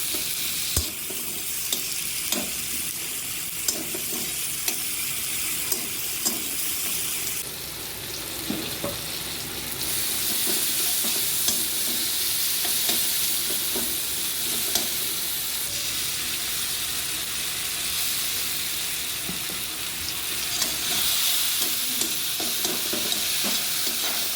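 Tomatoes fry in hot oil for bhindi masala, a steady loud sizzle running throughout with regular scraping and tapping from stirring, close up and with no talking.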